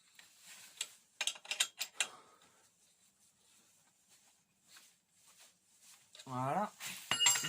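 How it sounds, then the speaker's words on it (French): A wrench turning a crank puller on a bicycle crank, giving irregular clicking and creaking mechanical sounds at close range, with quiet gaps between bursts and a brief voice near the end. "vous allez prendre votre clé qui va sur l'embout de l'extracteur de manivelle et vous allez la visser comme ceci pour sortir la manivelle"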